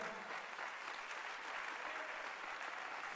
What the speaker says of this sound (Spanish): si ese aplauso es para Dios, déselo a Él